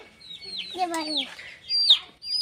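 Chickens cluck and squawk close by in short, uneven bursts, one call rising into a higher screech.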